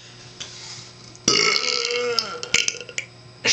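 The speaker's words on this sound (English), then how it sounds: "what would it be without a burp?" A single loud, drawn-out burp sounds close up, followed by a few short clicks and knocks in a quiet room.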